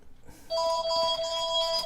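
A telephone ringtone starts halfway through and keeps ringing loudly with steady electronic tones, heard during a live polymer clay crafting session.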